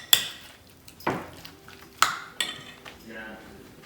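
Shrimp being mixed with ground spice paste in a bowl: four or five sharp metallic clinks and scrapes of a spoon against the vessel, spaced about a second apart, close and fairly quiet.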